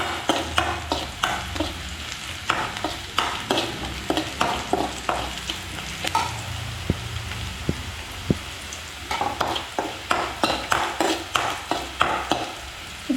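Sliced onions sautéing in a pan: a constant sizzle is broken by repeated, rhythmic scrapes and clinks as a utensil stirs them, close and clear.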